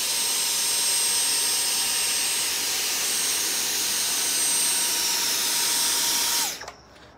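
A vacuum cleaner set to minimum suction drones steadily and loudly, its motor whine holding constant while it sucks up loose ballast on a model railway layout, then winds down abruptly near the end.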